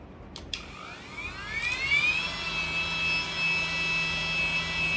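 An Ingco die grinder spins up with a high whine that climbs in pitch over a couple of seconds, then holds a loud, steady near tone at top speed of up to 30,000 RPM.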